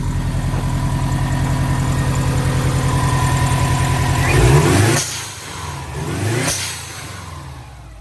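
A Subaru engine with a fresh IAC valve, new spark plugs and coil packs idles steadily with a rhythmic pulse, then revs up briefly twice before settling back, close and clear with no talk.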